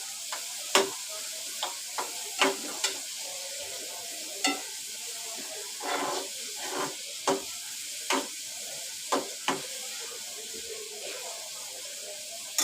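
Onion roasts and is stirred in a pan while making dry bombil chutney, with soft sizzling and a series of sharp spatula taps and scrapes spaced irregularly throughout.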